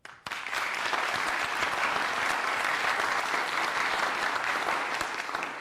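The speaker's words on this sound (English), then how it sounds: "Those who believe yes, please applaud." An audience applauds in a drought town hall in California, a dense, loud, sustained round of clapping that starts abruptly and holds steady throughout with no talk over it.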